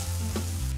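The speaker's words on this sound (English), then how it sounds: "Now give it a stir, and you're just looking for those tomatoes to release their juice a little bit" Tomatoes and fire-roasted peppers seasoned with salt and black pepper sizzle in a pan as they are stirred, a brief steady frying hiss under a low electrical hum.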